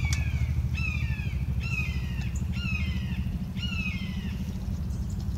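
Bird giving a series of five harsh, caw-like calls at a steady pace, loud and fairly near over a constant low background hum, with no talking.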